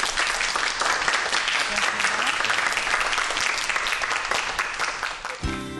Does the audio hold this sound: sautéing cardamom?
no